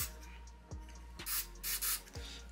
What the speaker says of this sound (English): spray some of your gun oil